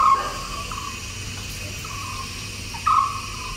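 Short bird calls sound faintly and sparsely over a low, steady background hum, with a louder chirp near the end, within a music track.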